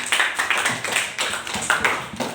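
Classroom of high school students clapping for a classmate, a loose, uneven patter of hand claps with irregular bursts, fairly close and moderately loud, with no talk over it.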